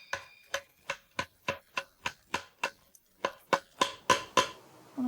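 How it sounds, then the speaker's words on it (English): A small knife is pressed crosswise into a bamboo log in a handmade chair workshop, giving a series of about fifteen sharp, evenly spaced cracking clicks, crisp and close, speeding up slightly toward the end, with no voices. "She presses a small knife crosswise into a log."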